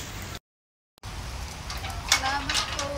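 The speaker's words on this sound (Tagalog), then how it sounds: "Umuulan na guys." Heavy rain falling outdoors, a dense steady hiss of drops on surfaces, with a short dropout partway through and people talking over the downpour.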